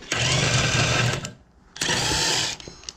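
DEWALT impact driver running in a higher gear gives two sustained, loud, buzzing whirs at close range, separated by a short pause.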